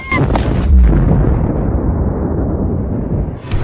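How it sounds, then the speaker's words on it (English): A massive explosion sound effect: a sharp booming blast followed by a deep, rumbling roar that slowly fades over a few seconds, loud and close, with no voices. "Suddenly, a massive explosion thundered, obliterating the arena completely, and light engulfed everything."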